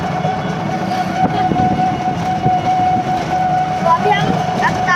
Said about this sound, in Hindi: हम बैठ चुके रिक्शा में। आप जैसे देख सकते हैं आवाज़ आ रही होगी आपको।